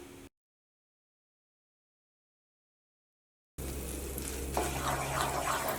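Maida flour stirred into hot coconut oil sizzles and scrapes in a pan, heard only in a short burst near the end after a long silent gap.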